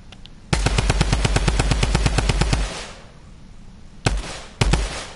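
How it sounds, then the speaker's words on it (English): Rapid automatic gunfire in a video game, a long sustained burst followed by two shorter bursts, loud and close with no talking. "Why are you shooting?"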